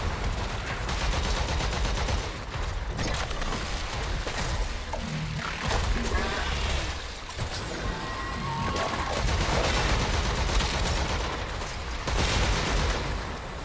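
Dense, continuous gunfire from the video game Warframe during the Heart of Deimos quest, a loud sustained barrage of rapid shots and crashing impacts filling the whole stretch without letup.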